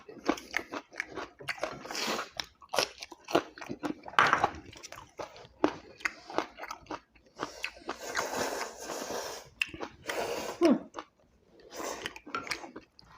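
Close, crunchy biting and chewing of jjamppong made with Korean beef brisket, eaten with green onion kimchi, cabbage kimchi and pickled radish, with irregular bites and smacking throughout and little talk.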